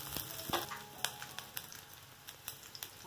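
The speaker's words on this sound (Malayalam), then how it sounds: "അതിനുശേഷം ഒരു 1-2 മിനിറ്റ് ഒന്ന് ഫ്രൈ ചെയ്തെടുക്കാം." Bajji chillies, seeds left in, frying in a pan for a Kerala coconut chammanti, giving a quiet, steady sizzle broken by scattered crackles and spatters close by, with no talking.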